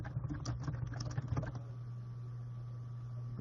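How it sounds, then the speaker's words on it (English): Quick bursts of keystrokes on a computer keyboard for about a second and a half, close and fairly quiet over a low electrical hum, then only the hum remains. "I'm just going to type in that"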